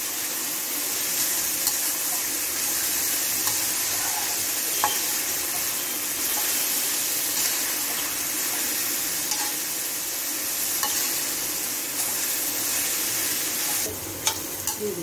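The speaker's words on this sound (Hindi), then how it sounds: "मिनट तक सब्जियों को अच्छे से भून लेंगे।" Vegetables roasting in a pan for savory vermicelli give a steady, close sizzle and frying hiss with occasional stirring scrapes and clicks, continuous throughout and without talk.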